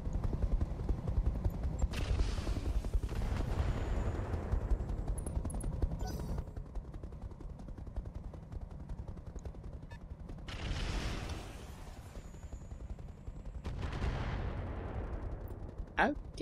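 Mech launching LRMs at a Vulcan in the BattleTech mod Roguetech, bursts of rapid, rumbling weapon fire and booming impacts in several waves, with a voice talking at points.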